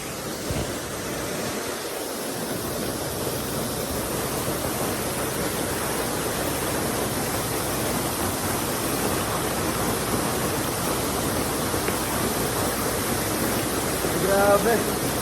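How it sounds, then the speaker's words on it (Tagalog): A roadside waterfall in Bukidnon pours with a steady, full rushing roar that fills the whole stretch without a break. "Napaka-normal na lang po ng falls nila dito."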